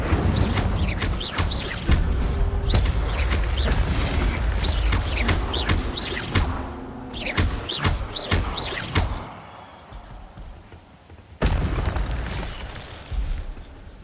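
Incendio fire spell cast in the Hogwarts Legacy video game: loud, repeated booming bursts of flame, one after another, with a quieter gap before a final sharp blast.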